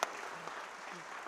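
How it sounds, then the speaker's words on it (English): Quiet applause from an audience at a city council meeting rises in a thin, even patter of many hands, faint and steady for about a second. "Please give them a big round of applause."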